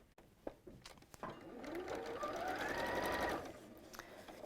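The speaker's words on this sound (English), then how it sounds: "we're going to sew all the way around" A sewing machine stitches around a pleated bag in a short continuous run of rapid whirring, preceded and followed by light clicks and handling noises, fairly quiet overall.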